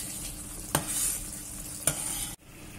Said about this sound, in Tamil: ஃபிளேம மீடியம் ஃபிளேம்ல வச்சுக்கோங்க, ஏன்னா கெட்டி ஆகிறதுக்கு தெறிக்க ஆரம்பிக்கும்